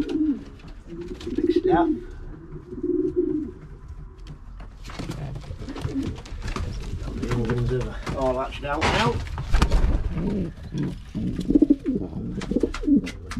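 Racing pigeons coo in a breeding loft as young birds are reared, soft repeated cooing close by, mixed with wing flutters and someone talking over the birds.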